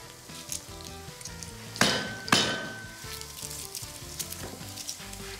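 Garlic frying in a pan for beef bourguignon gives a continuous close sizzle, broken by two sharp metallic clinks of a utensil against the pan partway through.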